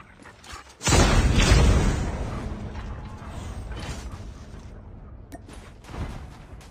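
A weapon magazine reload in the mobile shooter game Call of Duty Mobile: a loud mechanical clack and creaking slide, followed by fainter clicks and a final metallic snap.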